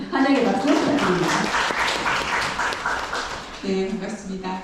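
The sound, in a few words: audience applause welcoming a speaker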